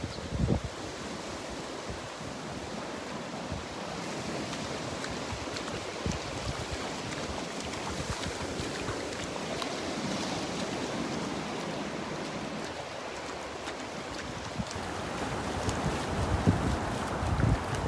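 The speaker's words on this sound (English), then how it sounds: "The waves are a little bigger here than they were to the north as they hit the sandbar" Ocean waves breaking over a sandbar on a beach as the tide goes out, a steady broad wash of surf with constant wind noise buffeting the microphone and no talking.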